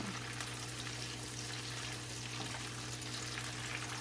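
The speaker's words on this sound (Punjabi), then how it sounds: "ਅਜੇ ਆਪਾਂ ਥੋੜਾ ਜਿਹਾ ਫਰਾਈ ਕਰਾਂਗੇ ਹੋਰ 1-2 ਮਿੰਟ" Forest bitter gourd frying in a pan, a steady soft sizzle running evenly throughout with a low constant hum beneath and no talking.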